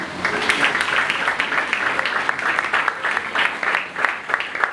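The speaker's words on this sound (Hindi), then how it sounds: "आपकी जोरदार तालियों में" A church congregation applauds during a live sermon, with steady, vigorous clapping that carries a loose rhythmic pulse, moderately loud and close and continuing without any speech.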